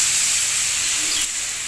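Eggplant roasting in a hot pan gives off a loud, steady, close hiss for a brief moment, with no voice over it.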